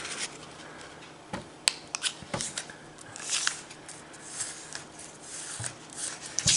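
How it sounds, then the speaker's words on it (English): A 6-inch square of kami origami paper being folded in half, with soft crinkling, rustling and a few sharp crisp creasing snaps, close and quiet with no talk. "and let's fold in half"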